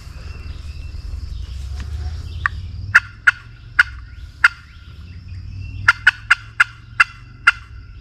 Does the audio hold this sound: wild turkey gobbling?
yes